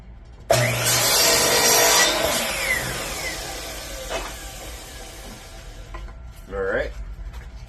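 A power saw cuts 45-degree angles on a wooden fence picket board, a loud burst of whirring and tearing wood that starts abruptly and fades over a few seconds, followed by lighter clatter and a short voice.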